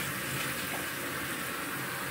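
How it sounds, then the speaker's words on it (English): Water splashes and runs as a face is washed at a sink with a foaming collagen cleanser, a soft steady wash of sound with no talking. "Put some water on my face."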